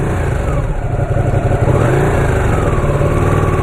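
A Ducati 959 sport motorcycle engine during a test ride, a steady close loud mid-pitched drone that rises in pitch as the bike revs and accelerates, with no talk.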